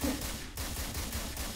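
Gunfire in a rapid, evenly spaced burst of loud, close shots, each crack blurring into the next for about a second and a half.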